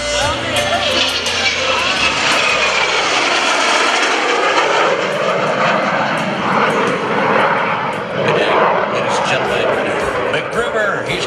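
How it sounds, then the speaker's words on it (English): An F/A-18C Hornet jet roars through a demonstration pass at an airshow, a loud sustained engine rumble with a sweeping pitch shift as it goes by, and an announcer speaks over it. "he's going to power the Hornet back up to speed"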